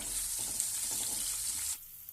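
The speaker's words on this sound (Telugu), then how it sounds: "ఉల్లిపాయ ముక్కల్ని లో ఫ్లేమ్లో గోల్డెన్ బ్రౌన్ కలర్ మారేంత వరకు వేయించుకోండి." Thinly sliced onions sizzle in hot oil in a pan on low flame for a beans fry, a dense, even hiss with faint scraping underneath. It cuts off sharply near the end, leaving quiet.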